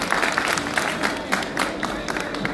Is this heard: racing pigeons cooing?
no